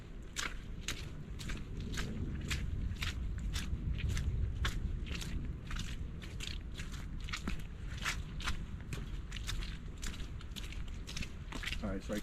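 Footsteps squelch and crunch through mud on a hiking trail in Patapsco Valley State Park, Maryland, a steady walking rhythm of close, soft wet steps over a constant outdoor background.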